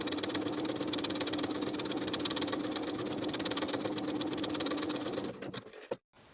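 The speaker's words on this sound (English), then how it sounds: "we're going to sew basting stitches from outer notch all the way across to outer notch" A sewing machine runs long basting stitches across a dress sleeve with a continuous rapid whirring hum close up, then slows and cuts off near the end with a final click.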